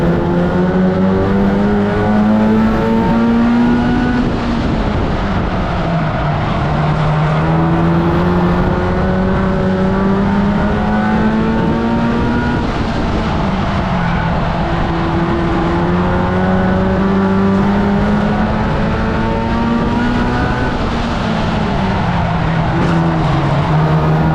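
Race car engines roar continuously in a racing video game as cars exit the final corner and cross the finish line, the loud drone repeatedly climbing in pitch and dropping with each gear shift, with no talking.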